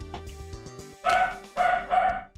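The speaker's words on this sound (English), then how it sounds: "Oh, there's more barking." A dog barks indoors in short sharp bursts, two or three loud barks following a softer patch of background sound, with no one talking.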